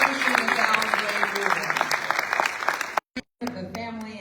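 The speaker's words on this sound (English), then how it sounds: "Let's give another round of applause to all of our cultural titans" Sustained applause from an audience at a celebration of life, dense clapping that breaks off abruptly near the end before resuming briefly.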